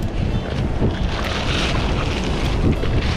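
Strong wind at sea buffets the microphone from a fishing boat, a loud, continuous rushing roar with gusty swells and no voices.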